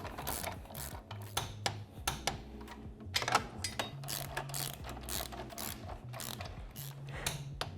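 A torque wrench ratchets in quick clicking runs as crash bar bolts on a Honda Transalp XL750 are tightened to 32 foot-pounds, close and steady with metallic handling between strokes.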